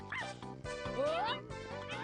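Small cartoon dog yipping in a Wii motion-controlled sneaking game modeled on What's the Time, Mr. Wolf, heard as short bright barks and whimpers over game music, with a voice talking.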